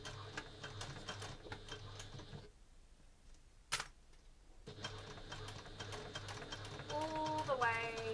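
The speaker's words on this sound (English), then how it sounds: "we're going to put our needle down on those marks and we're going to sew around" A sewing machine stitches around the curved edge of a coin purse in bursts of rapid mechanical whirring, stopping briefly partway through before running again, close and clear.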